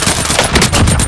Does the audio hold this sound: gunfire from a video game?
yes